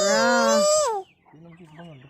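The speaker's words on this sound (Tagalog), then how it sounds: "Nara atog mga chicken." Native chickens on a farm give a loud, close call and then a softer cluck, two short vocal bursts with a pause between.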